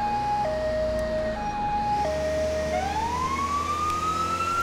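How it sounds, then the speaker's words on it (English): A British Met Police car siren wails in the LCPDFR video game, a loud two-tone alternation shifting into a rising wail over steady engine rumble, with no talking. "I should leave my sirens on for longer."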